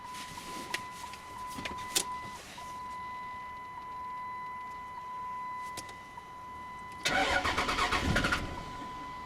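A Dodge Ram truck's engine cranks and catches with a short rough burst around the seventh second, preceded by faint clicks and a steady electronic tone in a quiet cab.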